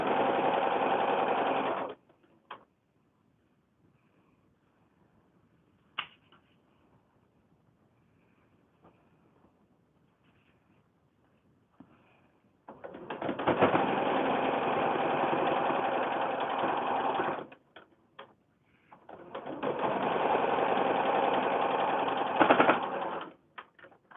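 A sewing machine stitches a foundation paper pieced flower block in two steady runs of several seconds each, with a short stretch at the start and quiet pauses between, close and loud with no talking.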